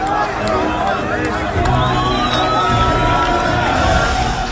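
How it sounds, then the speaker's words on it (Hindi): Crowd of thousands in the West Bank cheering and shouting to welcome Palestinian prisoners freed by Israel, with whoops and dense babble throughout, loud and continuous. "हजारों की भीड़ उनका इस्तकबाल कर रही है।"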